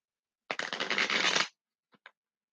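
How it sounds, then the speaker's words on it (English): Tarot cards shuffled by hand in one quick, close riffling burst about a second long, followed by two soft taps as the deck settles; no talking. "can shuffle these right."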